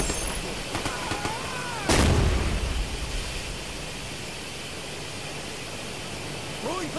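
Frag grenade blast in the multiplayer shooter Ghost Recon Future Soldier: one loud, booming explosion with a rumbling tail, rising over constant noisy gunfire and battle ambience.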